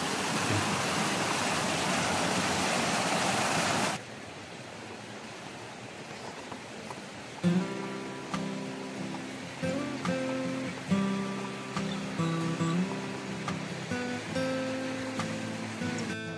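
A loud, dense rush of falling water from a waterfall in Sagada, Mountain Province, for about four seconds, then the roar drops away, leaving fainter water and rustling.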